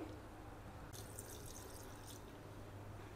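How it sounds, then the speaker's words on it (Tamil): Palm sap (pathaneer) pours into a cooking pot in a short, faint liquid splash lasting about a second, over a steady low background hum. "நான் ஒரு 2 கப் ஊற்றுறேன்."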